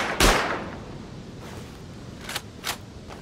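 Gunfire in a video game: one loud close shot with a long ringing tail, then a few fainter distant shots spaced apart, heard alone without talk.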